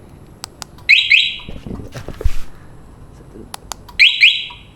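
Two short bursts of electronic alarm chirps from a Yamaha Y16 motorcycle alarm, about three seconds apart, with faint clicks and handling noise between them.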